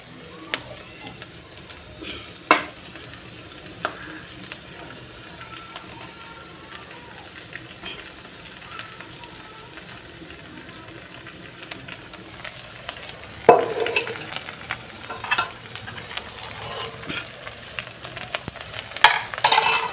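Leftover cooked rice goes into a hot pan and gets stirred, giving a steady low sizzle broken by scraping and clinking of a spoon against the pan, growing busier toward the end.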